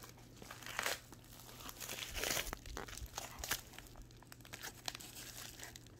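Layered tape being picked and peeled off a Burger King Pokémon card pack, with close crinkling of the wrapper, faint scattered rustles rising to a few louder tearing bursts.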